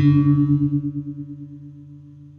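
Two guitar strings ring together while one is being tuned, their slow wobbling beats pulsing in a regular rhythm as the sound decays, close and clear with no talk.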